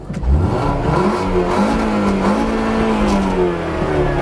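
A VW Beetle with a rare 2.3 V5 engine gets a short rev blip, the revs rising then holding in a steady, slightly raspy drone close by, with no talking.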